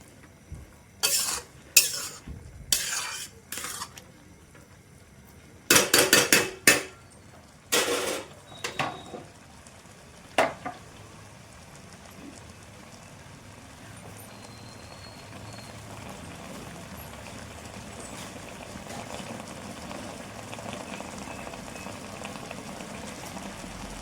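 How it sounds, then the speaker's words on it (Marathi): Carrots simmer in milk in a pot for carrot halwa, opening with several sharp bursts of spoon-against-pot stirring and clanks, then settling into a soft, steady bubbling sizzle without speech. "गॅसची फ्लेम थोडी वाढवायची आणि दुधामध्ये हा छान गाजर आपण शिजवून घ्यायचं थोडं"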